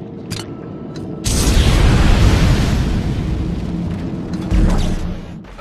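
Nitrogen trichloride tank blowing up in the sci-fi horror game Dead Space 2, a sudden loud boom at about one second followed by a sustained roaring rumble and a second heavy burst near the end, no voices.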